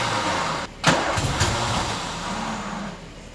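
A neglected Ford MK1 Escort Coupe engine cranks with starter fluid, giving a few sharp coughs and bursts. It does not catch and fades to a low, uneven churn, close and moderately loud with no talking.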